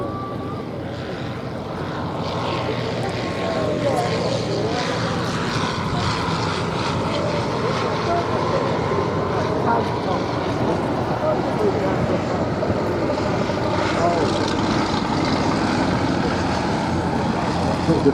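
Vintage propeller aircraft reproductions, one with a 90-horsepower engine, fly past at a Duxford VE Day anniversary air show, their steady droning engines holding loud and constant throughout while a crowd murmurs.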